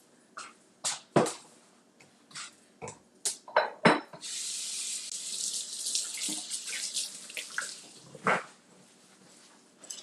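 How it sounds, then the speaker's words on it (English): Hands washed under a running kitchen tap: scattered splashes and knocks, then a steady close stream of water for several seconds that breaks into further splashes and drips, no talking. "So let me wash my hands."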